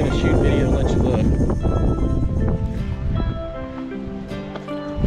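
Strong wind blows at South Point on Hawaii's Big Island, buffeting and roaring loudly and steadily across the microphone, and a voice may be faintly present beneath it.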